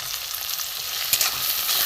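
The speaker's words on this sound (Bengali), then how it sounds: "এখানে পেঁয়াজ আর টমেটো কাটা আছে দিয়ে দিলাম" Chopped onion and tomato hit a hot pan for a fish curry with mustard-poppy paste, giving a steady close sizzle of frying with a brief louder burst of crackle partway through, no voices.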